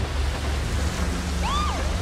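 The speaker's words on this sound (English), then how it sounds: "Look at all the rain coming down." Steady broadband rain pouring down in the police patrol game GTA V LSPDFR, a continuous loud hiss filling the scene with no speech, a brief rising and falling siren-like tone near the end.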